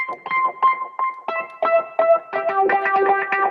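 A Wurlitzer electric piano plugin plays a bouncy melody of short, bell-like chords, mellow and slightly bright, rising into denser, layered notes toward the end.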